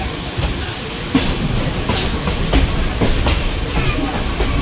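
A Panvel–Vasai Road MEMU train runs and turns onto another line, loud and close, with continuous rumbling and rhythmic wheel clicks from the rail joints.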